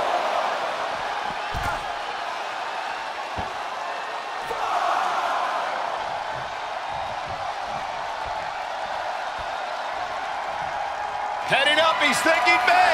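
A steady roar of an arena crowd in the WWE 2K23 wrestling video game fills the background, swelling louder near the end, with a commentator's voice talking over it.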